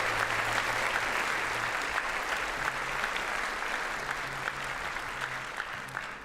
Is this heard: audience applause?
yes